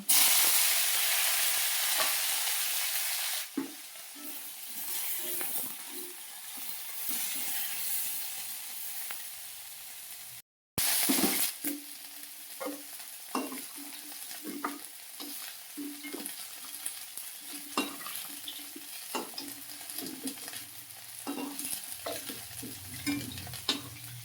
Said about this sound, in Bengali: এবার করলাগুলো ভেজে নেব